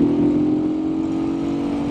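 A Janus Halcyon 450 motorcycle with an air- and oil-cooled single-cylinder engine holds a steady, smooth drone at high revs, a strong even tone sounding close and alone.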